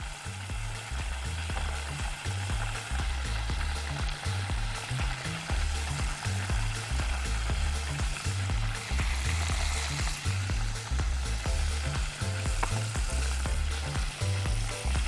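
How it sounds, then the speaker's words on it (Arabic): Battered crispy chicken pieces dropped into hot oil and frying, a dense continuous bubbling sizzle with a constant crackle, close and loud throughout. "واقوم منزلاها على الزيت على طول"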